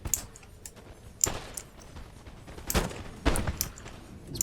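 Musket volleys from the video game Napoleon: Total War crack out in several sharp bursts over a rumbling battlefield bed, with rapid, repeated ragged firing.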